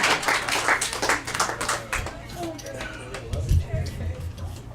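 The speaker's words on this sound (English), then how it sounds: "Give yourself a round of applause" A comedy club audience claps briefly, a short burst of scattered hands in the first couple of seconds that thins out quickly, then low crowd murmur and a voice carry on.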